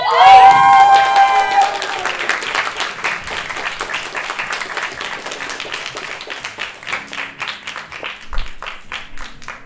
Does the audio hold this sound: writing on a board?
no